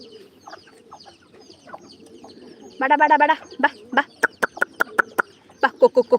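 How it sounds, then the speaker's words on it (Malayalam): Spotted hens clucking up close in a run of short, rhythmic bursts, growing louder and more insistent toward the end over a quiet background. "എന്താ പുള്ളിക്കോഴികൾ വന്നു"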